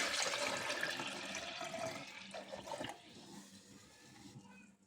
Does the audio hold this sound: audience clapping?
no